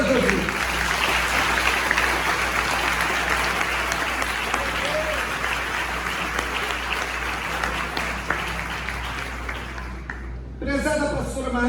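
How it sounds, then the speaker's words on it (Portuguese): Sustained congregational applause at a Brazilian evangelical church consecration service, loud and steady for about ten seconds with cheering mixed in, then a brief fade before a voice starts over the tail end. "Aplauda Jesus."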